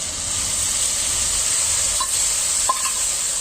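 Onion paste with ginger and garlic paste frying in a pan for a Chhattisgarh-style chicken curry, giving a steady close sizzle with faint stirring clicks and no talk.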